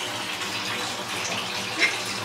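Cold shower water runs steadily in a continuous broadband rush of spray, close and fairly loud, with a small splash near the end.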